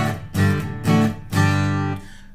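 Acoustic guitar strums verse chords from an 1980s song, with three or four strong strummed hits ringing out in a short, close, solo phrase.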